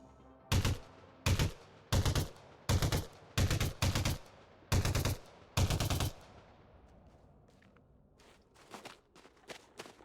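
Seven heavy, evenly spaced bursts of gunfire from a ship's gun in the space game Elite, each loud with a short decaying tail, followed by quieter scattered shots.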